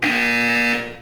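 A single buzzer blast in Portal 2, a loud, harsh, steady electronic drone that holds for nearly a second and then fades.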